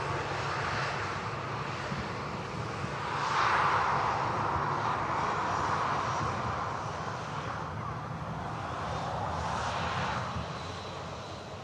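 An Emirates airliner at Manchester Airport gives off a continuous broadband engine roar that swells slightly around the middle and then holds at a fairly even level, heard from a distance without speech.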